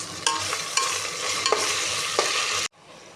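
Sliced onions frying with ginger garlic paste in a pan, a close, continuous sizzle broken by several sharp stirring scrapes, ending abruptly in near silence.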